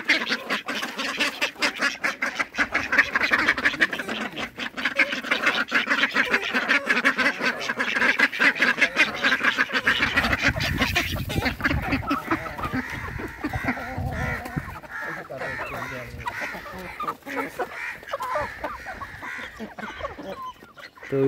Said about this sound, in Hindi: ये ले लीजिए, अब चूजे आ चुके हैं।